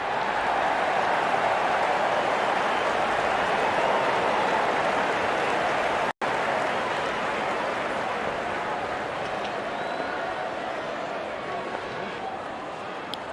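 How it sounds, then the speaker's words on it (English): A large stadium crowd cheers and roars steadily as the opening batsmen walk out at a cricket match in the video game RC24, a dense continuous wash of noise broken by one brief dropout. "Out come the openers, cheered by a good crowd in."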